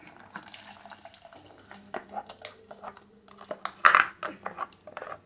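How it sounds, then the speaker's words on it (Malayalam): Water is poured into ground curry paste while cooking a spinach curry, giving a soft, uneven trickle and splash close by, with a brief louder burst of liquid near the end. "ഇച്ചിരി വെള്ളം ഒഴിച്ച് വെച്ച് അതിലേക്ക് ഇറക്കാം"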